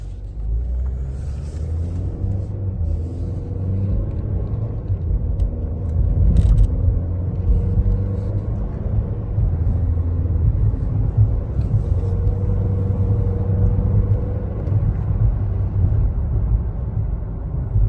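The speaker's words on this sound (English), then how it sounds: "Now we'll be on the road to do a drive test on it." A 2019 Chevy Malibu with a 1.5 L engine cruises on the road, giving a steady low cabin rumble of engine and tyre noise throughout with no talking.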